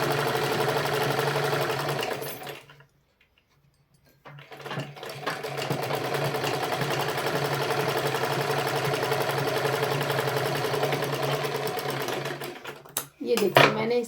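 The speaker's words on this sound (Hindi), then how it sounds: "ये देखिए, मैंने इसे सिल लिया।" A sewing machine stitches fabric in a steady, loud mechanical whir, pausing briefly for about a second before running again and stopping near the end with a few small clicks.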